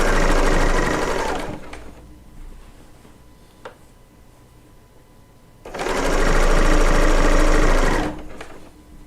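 A serger sewing machine stitching a quilt top runs in two loud, close bursts of rapid whirring hum, each about two seconds long, separated by a quiet pause with a faint click.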